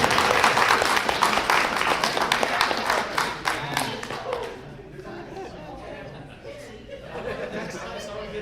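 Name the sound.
audience applause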